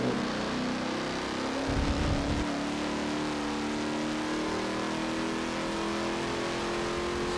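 A Ram Power Wagon engine revs in Forza Motorsport 7, a steady mid-pitched drone that climbs gradually in pitch as it accelerates, with a brief rumble early on and some audible distortion.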